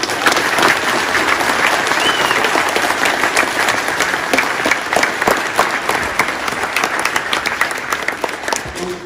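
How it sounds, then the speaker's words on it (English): A crowd at a high school Veterans Day assembly in a gym or auditorium gives loud, sustained applause that holds steady and dense from start to finish. "Big round of applause."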